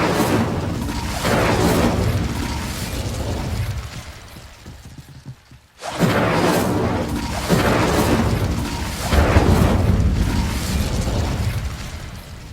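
Incendio fire spell cast in Hogwarts Legacy: loud, dense bursts of roaring flame and booming blasts that swell repeatedly, break off into a brief lull, then surge back hard and sustained.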